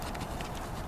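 A horse ridden at a walk sets down its hooves in steady clip-clops on the ground, moderately loud and close, in an arena setting without talk.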